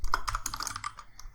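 Quick bursts of typing on a computer keyboard, light close clicks in a fast uneven rhythm with no talk over them.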